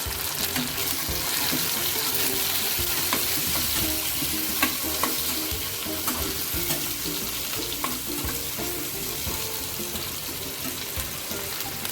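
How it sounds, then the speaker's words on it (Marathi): Tomatoes frying in hot oil in a home kitchen pan while being stirred for a summer kurdai vegetable dish, giving a steady close sizzle with frequent scraping clicks of the spoon throughout. "आता टोमॅटो घालू टोमॅटो सुद्धा परतून घेऊ तेलामध्ये"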